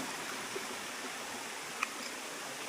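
Steady broadband rush of a waterfall and stream at Ambon-Ambon Falls in Kamantigue, a continuous even flow with no talk and one faint tap partway through.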